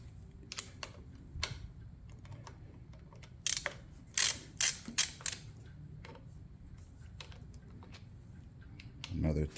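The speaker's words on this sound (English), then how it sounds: "work on taking this bracket off here" Hand tools loosening a bracket on a Harley-Davidson Iron 883 motorcycle: scattered clicks, ratcheting and metallic taps up close, with a few louder clinks midway and a brief rustle at the end.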